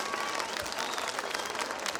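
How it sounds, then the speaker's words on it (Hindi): Audience at a night program at the Banikhet Mela clapping, a dense, steady wash of applause throughout with a faint voice mixed in. "तालियां बजा सकते हो अगर अच्छा लगे तो"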